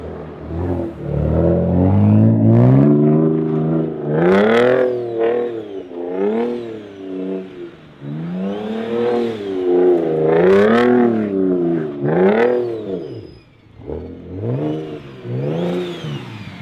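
A 700 hp single-turbo BMW 335i drifting in snow revs hard and repeatedly, its engine note rising and falling in loud, close sweeps as the throttle is worked throughout.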